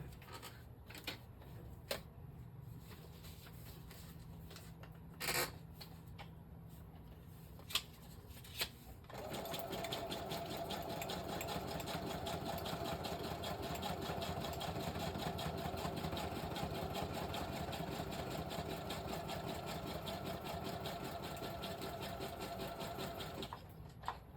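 A sewing machine stitches through a notepad made from junk mail; a few faint clicks and handling sounds come first, then a steady, close mechanical whirr runs continuously for about fifteen seconds before stopping.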